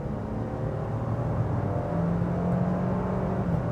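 A Lexus GX550 SUV accelerates up a freeway on-ramp, a steady, smooth engine and road drone heard from inside the cabin, rising slightly in loudness with no talk.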